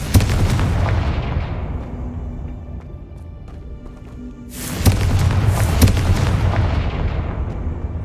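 A Confringo blasting curse erupts in Hogwarts Legacy: a deep, rumbling explosion opens and fades into a low roar, then a second sharp, loud blast bursts out near the end and keeps rumbling, alone without talk.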